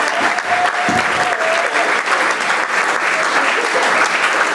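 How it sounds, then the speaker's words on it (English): An audience at a junior football awards ceremony gives a loud, steady round of applause, dense clapping filling the room from start to finish without a break. "So they've got to have another big round of applause,"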